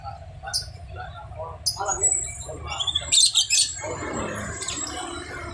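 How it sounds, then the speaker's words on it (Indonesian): Kept birds chirp and squawk in short, sharp bursts close by aboard a tour bus, with people talking underneath. "Jadi sekalian penumpang bisa mendengar kicau-kicauan burung ya"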